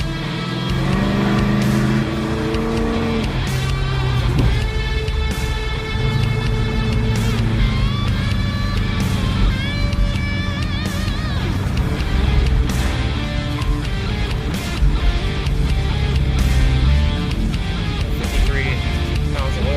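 A street car with a loose exhaust drones and revs continuously from inside the vehicle, pitch shifting up and down as it accelerates, with road rumble and occasional clicks.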